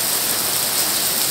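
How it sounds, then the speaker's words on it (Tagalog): Heavy rain pours down in a steady, dense hiss that fills the space evenly and loudly, with no voices or other distinct sounds. "Ayan ang ulan. Malakas."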